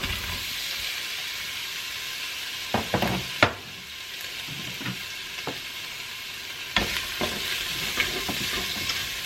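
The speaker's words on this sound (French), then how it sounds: "Et je vais y faire revenir mes oignons." Onions fry in a spoonful of oil inside a Cookeo multicooker, a steady close sizzle broken by several sharp scrapes and clicks of stirring.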